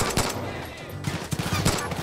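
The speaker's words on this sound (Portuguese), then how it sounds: "tô levando tiro de todo lado, tio, na moral." Rapid bursts of gunfire from several directions in the Far Cry 5 video game, loud and dense, with a lull in the middle before more shots crackle back in.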